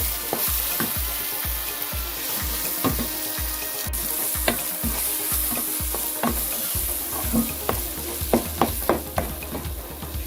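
Chickpea masala fries in a pan under steady, rhythmic stirring, each stroke a short scrape repeating about once a second over a constant close sizzle, with quicker clinks toward the end.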